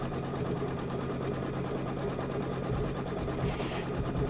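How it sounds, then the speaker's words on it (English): An embroidery sewing machine stitching out a design, a fast steady mechanical chatter of the needle running continuously and close at moderate loudness, with no pauses and no talk. "So you can just go ahead and hit start. That's going to be 2 minutes of stitching."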